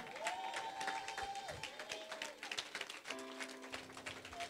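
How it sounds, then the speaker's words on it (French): A church congregation claps and cheers in praise of God, a steady wash of applause and crowd noise underneath sustained musical tones. "Mes amis, tenons-nous debout, acclamons ce Dieu."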